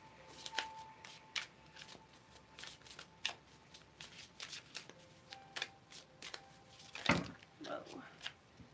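Tarot cards are shuffled by hand in quick, close riffles and slides, with soft papery snaps repeating in bursts. A brief voice is heard near the end.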